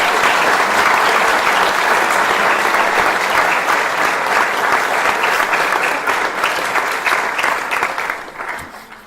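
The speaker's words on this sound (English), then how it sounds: "Please join us in a round of applause for the Piqua High School NHS induction class of" Sustained audience applause for the Piqua High School National Honor Society induction class of 2019, loud, even clapping from a large crowd lasting about eight seconds and then tapering off, with no talking.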